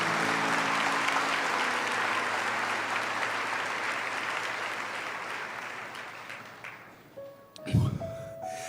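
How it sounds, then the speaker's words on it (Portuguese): Sustained applause from a congregation during a religious worship service, strong at first and gradually thinning, with a sharp thump and some scattered sounds near the end. "Pode aplaudir com força."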